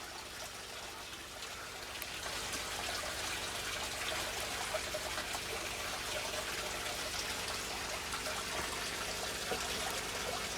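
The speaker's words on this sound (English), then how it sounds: "let that water go back down through the air stone." Aquarium water trickles and splashes steadily back down through an air stone in a shrimp tank, a continuous close bubbling stream that swells slightly louder after the first couple of seconds and runs on unbroken.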